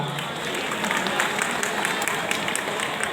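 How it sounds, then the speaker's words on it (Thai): An audience at a retirement ceremony applauds in a steady, sustained round of many hands clapping, filling the room evenly from start to finish. "ขอเสียงปรบมือดังๆให้ท่านด้วยครับ"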